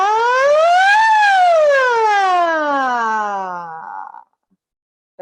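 A singer's voice imitates a siren as a vocal exercise, sliding smoothly up and then gliding down through a long, loud, clear open-mouthed tone for about four seconds before stopping.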